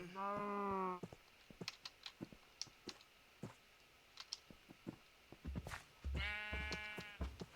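Minecraft sheep bleating, two clear bleats at the start and end, with keyboard clicks and small game sounds ticking in between.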